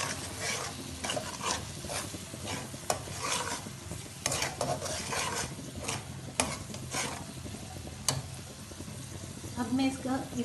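Spiced brinjal masala for a curd-gravy curry is stirred in a hot pan, with a soft sizzle under repeated scraping clinks of a spoon and someone talking over the cooking.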